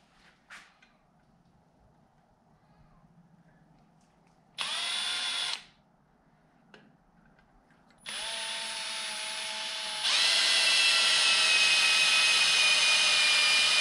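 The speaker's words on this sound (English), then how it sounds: "Grab the drill." Power drill boring into a center-punched mark on a Honda CB550 motorcycle build part: a brief whining burst, a pause, then a sustained high whine that rises in pitch and loudness as the bit bites, close up with no talk.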